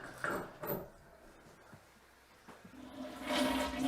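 A toilet in a property being winterized is flushed to empty most of its water, giving a rushing, gurgling swirl that swells, fades, then rises again, fairly faint and without voices.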